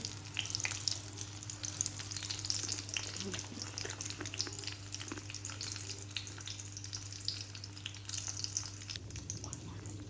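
Papad fries slowly in a pan on low heat for papad moglai, giving a faint, steady sizzle with soft crackles under a low background hum.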